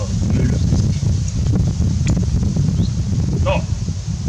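Steady outdoor wind gusting against the microphone by a house eave, a continuous low rumble with faint rustling and a brief bird chirp near the end.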